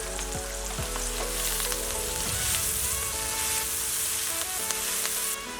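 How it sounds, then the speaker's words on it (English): Chopped onions sauteing in oil for a red chicken curry sauce give a steady, close sizzle and crackle, with a few brief stirring scrapes against the pan. "I'm putting in now chopped onions and saute them."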